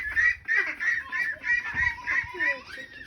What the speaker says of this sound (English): 7 chickens, and 3 buff ducks. And they're all getting along good enough in here.